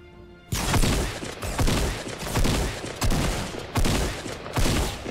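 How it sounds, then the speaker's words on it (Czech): Rapid bursts of gunfire in the video game Fortnite, loud repeated volleys of shots in quick rhythmic clusters after a brief quiet start, heard close with no talk. "Každopádně slyšel jsem výstřel."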